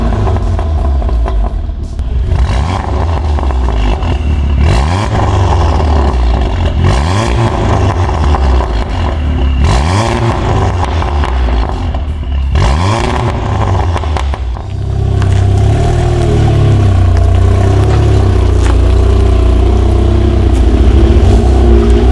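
An Audi TT fitted with an Armytrix exhaust system revs repeatedly, each blip rising and falling in sharp bursts before settling into a loud, sustained idle and drone, close and continuous with no talk.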